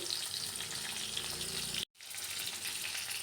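Carrot and beetroot pieces fry in a pan for a chutney, making a continuous bright sizzle with a momentary dropout partway through before the crackle resumes.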